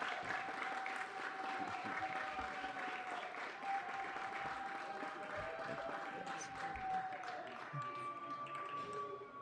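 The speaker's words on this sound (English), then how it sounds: "So a big round of applause." Sustained applause fills a council chamber at a city council meeting, steady dense clapping for about nine seconds with a faint tone running underneath, fading slightly at the end.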